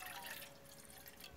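A small amount of water trickles and drips into a pot for a Trangia spirit stove, a soft, steady pouring sound, close by and fairly quiet, with no talking.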